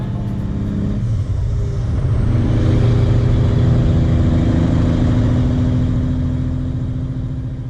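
Engine of a digging machine droning steadily while it digs a double ditch on a construction site, a loud, close, continuous low rumble with no voices.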